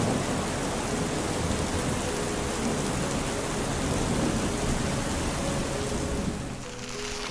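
Heavy early-season rain pours down on an island in a dense, continuous roar with a low rumbling undertone, loud and unbroken before easing slightly at the end.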